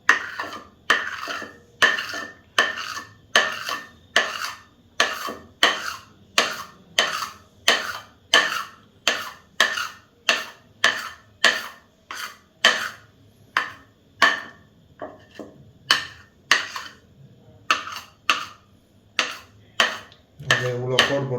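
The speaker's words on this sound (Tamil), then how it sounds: "கத்தி எடுத்து நல்லா கோடு போட்டுருங்க" A knife scores line after line into spread-out parotta dough, giving a steady run of sharp, evenly spaced taps and scrapes close by, with a short pause near the end.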